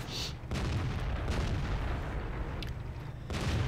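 AMX 13 57 F tank gun booming in World of Tanks, a loud low blast at the start followed by sustained rumbling battle noise and a second shot near the end.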